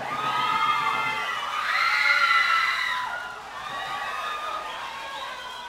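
A lucha libre arena crowd shouts and cheers continuously, rising to a louder swell midway then easing, with high-pitched voices and whoops filling the hall.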